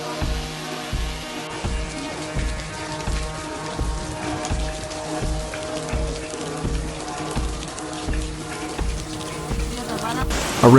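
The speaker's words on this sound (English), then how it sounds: "A relentless overnight downpour unleashed chaos across the city, leaving streets inundated and daily life at a standstill." Heavy overnight rain downpour flooding city streets, a steady dense hiss of rain with constant patter, loud and continuous, mixed with a droning background hum.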